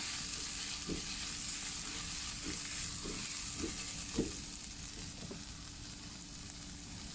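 Garlic and chili aromatics sizzle steadily in a hot wok for a shrimp holy-basil stir-fry, with a continuous close frying hiss and soft scraping stir strokes roughly every half second.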